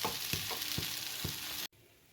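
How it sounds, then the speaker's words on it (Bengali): Pea filling for kachori being dry-fried in a pan: a soft, steady sizzle with a few evenly spaced stirring scrapes, then it drops abruptly to a quieter hiss. "এরপর আমি এটাকে ভালো করে শুকনো শুকনো করে এটাকে কষে নেব।"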